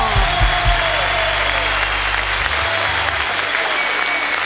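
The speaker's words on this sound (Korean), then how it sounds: "Un aplauso fuerte para el Señor." A church congregation at a worship service in Saltillo, Mexico, applauds loudly and steadily in a dense wash of clapping that lasts throughout, while a low musical tone sounds beneath it.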